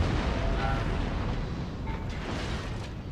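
Artillery firing in a strategy video game, a dense, continuous low rumble of distant booms and blasts rolling without pause.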